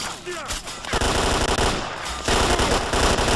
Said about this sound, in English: I don't know what you guys are shooting at.